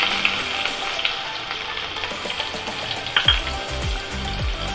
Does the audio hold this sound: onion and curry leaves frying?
yes